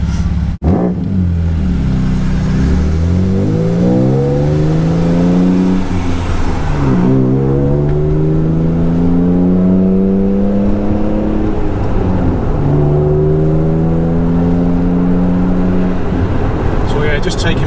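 A restored Alfa Romeo GTV on its first drive after two and a half years of work, its engine droning loud and close, rising and falling in pitch as it accelerates and shifts through the gears on the road.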